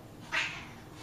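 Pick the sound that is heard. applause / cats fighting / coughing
cats fighting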